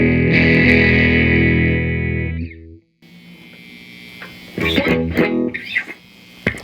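Electric guitar through a 1973 Peavey Classic 212 amplifier with the volume cranked and no gain control: a sustained distorted chord rings out and dies, then after a brief silence comes a quieter passage with a few sharp, louder strums.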